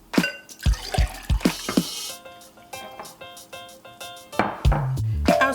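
Water being poured for a detox drink falls as a series of close, distinct drips and splashes, then runs into a longer pouring stream at the end.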